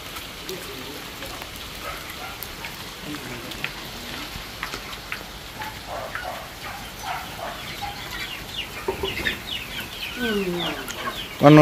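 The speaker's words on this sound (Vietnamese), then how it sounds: "Xem con gà kia nào rồi." Chickens cluck repeatedly around a rural Vietnamese home, the calls rising and falling over a soft rain-like hiss, while people talk quietly nearby.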